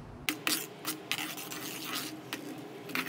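Boiled wheat flour is stirred by hand into palmyra fruit batter, making soft repeated rasping scrapes in an uneven rhythm, close and faint.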